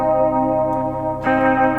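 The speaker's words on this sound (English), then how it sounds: "Next up is the minor third." An electric guitar with chorus and echo effects rings out a minor third interval, a sustained shimmering chord struck twice, the second strike a little brighter.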